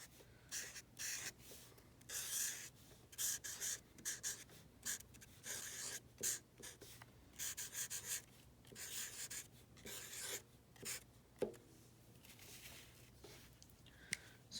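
Pen writing a holiday message on a quilled paper card, faint close scratchy strokes in short repeated bursts with brief lifts between words, quiet and alone.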